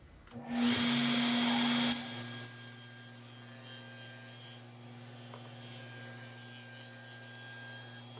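A saw rasps through 5-layer veneered plywood for about a second and a half, close and loud, then cuts out, leaving a steady tonal machine hum that carries on alone.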